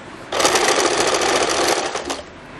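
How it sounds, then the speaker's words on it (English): Sewing machine stitching a fabric piping strip for the side slit of a kurti, a fast, close, continuous mechanical whir lasting about two seconds before stopping. "fold the strip inside, and then I'll stitch it like this"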